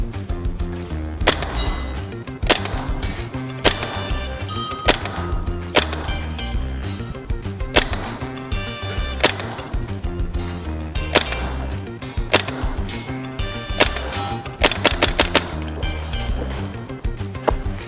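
Maruyama SCW9 Pro gas blowback airsoft submachine gun firing through the rest of a magazine, a loud, continuous run of sharp cracking shots in irregular bursts, close by with no talking.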